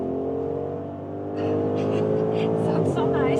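Audi SQ8 facelift engine pulling hard on the German Autobahn, a steady loud drone with rising harmonics as it accelerates, with a person speaking over it.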